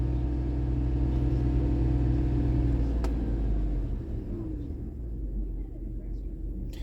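A car's engine with a dirty mass air flow sensor, idling as a loud, steady low rumble as throttle is applied, then settling lower near the end. Someone talks over it.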